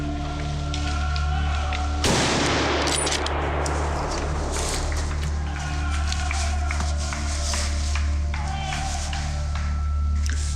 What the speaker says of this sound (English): So I just shot the first Croatian boar.